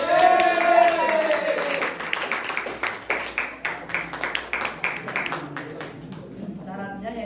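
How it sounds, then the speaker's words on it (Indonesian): A small classroom group claps for a student at an Islamic college teaching-practice lesson, scattered hand claps that thin out into a handful of separate claps, following a speaking voice at the start. "Tepuk tangan untuk Lutfi."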